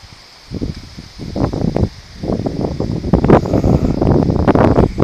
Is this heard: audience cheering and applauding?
no